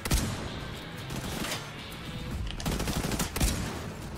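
Gunfire in the shooter game The Division 2, bursts of rapid shots cracking loud and close, with heavier blasts near the start and end.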